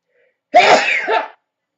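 A single sharp human sneeze, close and fairly loud, lasting under a second against silence.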